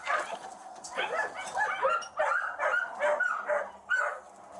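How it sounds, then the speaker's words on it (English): Great Dane puppies in cages bark, yip and whimper in a busy overlapping chorus, several small voices close by, rising and falling throughout. "Them all those puppies in them cages are Great Danes."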